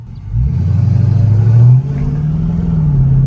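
A 2022 Dodge Charger R/T engine revs hard and pulls under acceleration, a loud, close, rising drone that dips briefly as it shifts, then climbs steadily again with no voices.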